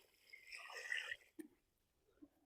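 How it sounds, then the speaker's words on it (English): Water pours into a bucket of banana peels, vegetable and fruit scraps in a short splashing gush, followed by a few soft knocks and drips in a quiet setting. "what I'm going to do next is pour some water in this bucket"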